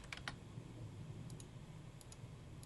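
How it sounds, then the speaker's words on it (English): A few quiet key presses on a computer keyboard as a command is typed, short clicks in two small clusters over faint steady background hum. "Let's type in region again."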